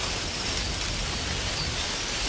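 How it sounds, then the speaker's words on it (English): Steady rain from the Assassin's Creed Shadows game trailer hisses as a dense, even wash of noise, continuous and moderately soft with no voices or distinct drops. "Oh, it's raining."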